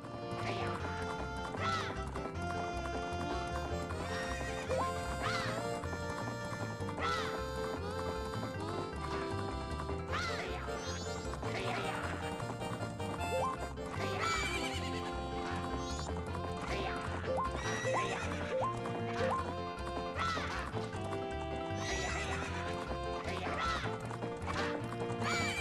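Horses gallop with steady clip-clop hoofbeats and occasional neighs during a horse race in the video game The Legend of Zelda: Majora's Mask, layered over continuous game music at a constant level.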